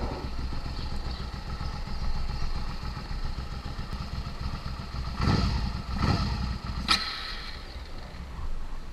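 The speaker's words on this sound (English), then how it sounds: "I'm just revving it in neutral and it keeps dying." A motorcycle engine in neutral idles roughly up close, sputters through a couple of brief revs, then falters with a clattering catch as it struggles to keep running, repeatedly stalling.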